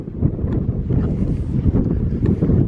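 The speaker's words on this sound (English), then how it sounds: "Oh, the wind's dying now." Wind blows across a microphone on an open hill near a coastal hurricane barrier, a steady low roaring rumble with gusty swells throughout and no talk.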